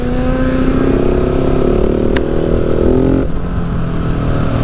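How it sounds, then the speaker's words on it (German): A motorcycle accelerates as its rider opens the throttle, the engine note rising steadily and loud at close range, then dropping suddenly near the end as the throttle eases. No one speaks. "Mal wieder ein bisschen Gas zu geben."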